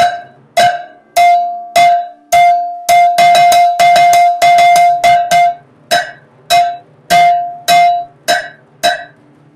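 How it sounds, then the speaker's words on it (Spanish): A cowbell struck sharply with a stick in a lively, uneven rhythm, bright metallic clanks ringing loud and close, some hits quick in succession. "Lo que se llama cowbell o cencerro."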